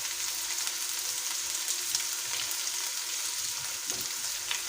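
Garlic ginger paste fries in a pan with a steady, dense sizzle that holds at an even level throughout, joined by a few faint stirring scrapes.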